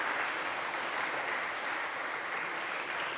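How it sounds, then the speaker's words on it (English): Steady applause from a quiz audience at a national quiz final, a dense, even wash of clapping that holds throughout without letting up. "A big round of applause for sir."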